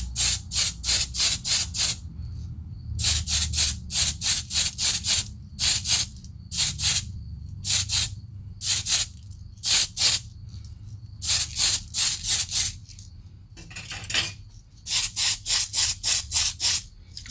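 A spray can paints a car interior black in rapid short hissing bursts, fired in quick clusters with brief pauses between them, close by and without talk.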